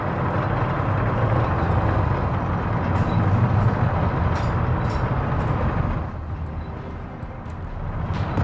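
A military vehicle drives through a WW2 video game battle, its steady low engine rumble dense and continuous, dipping briefly before building again.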